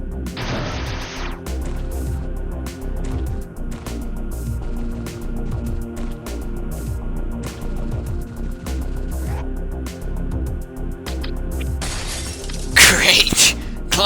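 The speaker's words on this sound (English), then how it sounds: "glass breaking" Glass shatters in the Metroid AM2R video game, with a bright burst near the start and another crash near the end, over a game soundscape with someone talking throughout.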